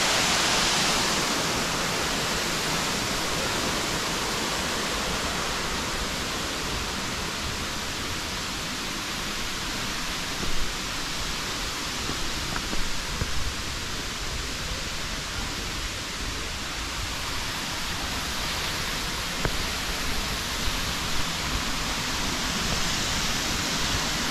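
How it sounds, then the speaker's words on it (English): Choma waterfall in Morogoro pours steadily as a dense, unbroken roar of falling water, close and loud throughout with no voices. "Choma Waterfall."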